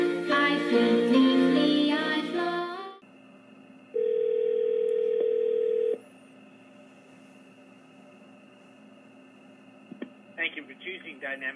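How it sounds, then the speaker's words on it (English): Phone call tones played through a Saicoo outdoor Bluetooth speakerphone: music cuts off, then a steady electronic ringing tone sounds for about two seconds, followed by a quiet hum and the start of a faint voice. "and then I'll do a phone call"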